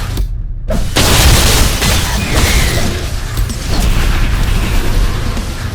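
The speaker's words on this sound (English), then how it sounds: "Explosions." Loud, booming explosions in the video game VOIN during a boss's phase-two attack, with a sharp blast followed by a continuous rumbling, crackling roar of destruction.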